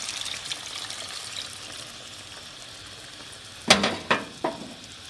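Warm water is poured over frying meat in a pan while cooking Qazvin-style qeimeh nesar. A steady, soft sizzle and trickle gives way to several sharp, loud bursts of hissing spatter near the end.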